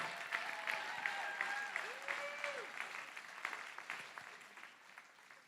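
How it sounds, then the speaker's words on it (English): Scattered applause from guests at a charity gala auction, fairly faint and distant, running steadily for several seconds while voices talk over it. "Let's give these guys a round of applause."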